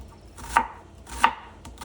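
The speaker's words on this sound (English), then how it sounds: "I finished finely dicing the onion" A knife chops an onion on a cutting board in two or three distinct, crisp strokes spaced about half a second apart, close and clear in a quiet kitchen.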